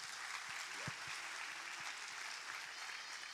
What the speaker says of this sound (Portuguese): Pastor Genil, você pode aplaudir a Deus pela vida dele?